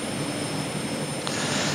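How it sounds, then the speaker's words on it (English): Twin SK60 jet engines run at ground idle after a cold start in the DCS flight simulator, a steady loud roar with a thin high whine that holds evenly throughout. "Now it looks like our engines are started"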